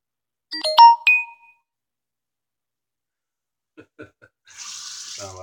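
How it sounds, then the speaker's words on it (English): A phone message notification plays a short bright electronic chime near the start, followed after a pause by a few faint clicks and then running water from a tap in the background. "Sound like somebody's messaging me."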